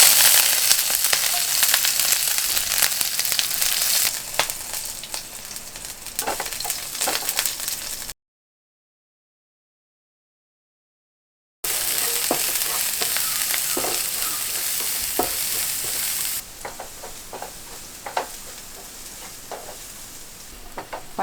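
Green chillies and onion frying in oil with mustard seeds, a steady close sizzle with intermittent stirring scrapes, cut by a silent gap before the frying resumes and gradually softens.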